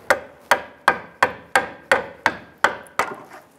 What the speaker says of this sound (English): We're gonna use our small pry bar and a hammer.